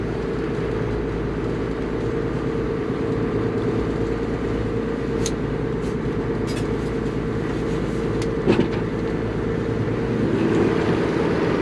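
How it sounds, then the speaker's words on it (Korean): A large Volvo Penta boat engine running, a steady low droning hum with a constant tonal whine, a few faint clicks and knocks over it, and no voices. "볼보, 볼보 딱 적혀있는 볼보 펜타 엔진"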